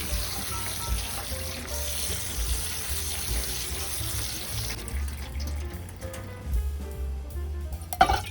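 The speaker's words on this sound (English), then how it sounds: "quickly drain them in a strainer and rinse them under running water to cool" Cooked soba noodles are rinsed in a strainer under a running kitchen tap, making a steady hiss of flowing water. Near the end there is some clatter and splashing, and no one speaks.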